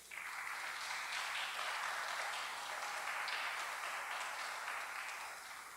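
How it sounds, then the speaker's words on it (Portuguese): A church congregation applauds steadily for several seconds, a dense wash of clapping that stays even and fades slightly at the end. "mais uma vez aplaudam a Ele, queridos."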